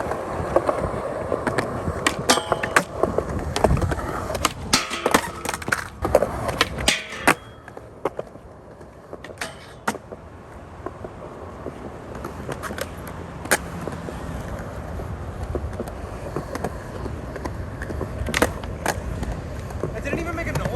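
Skateboard rolling and grinding along a freshly waxed rail, its wheels rumbling steadily with sharp clacks and knocks of the board; the grind itself stays quiet and smooth, heard outdoors at moderate distance.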